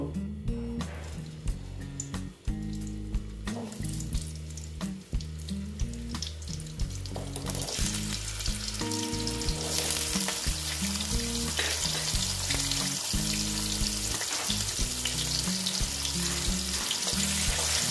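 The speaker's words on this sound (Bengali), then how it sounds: "তো বন্ধুরা, আলুটা আমি এখন ভেজে নিচ্ছি" Potatoes frying in oil seasoned with turmeric, a steady close sizzle that grows louder and brighter midway, heard over a constant low background hum and music, with no talk.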